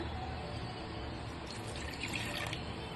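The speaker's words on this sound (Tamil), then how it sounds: "அதுக்காக நல்லாவே தண்ணி வந்து ஊற்றிக்கலாம்" Water poured into a soya and vegetable kurma as it cooks, a steady continuous pouring and splashing wash of liquid heard close up with no talk.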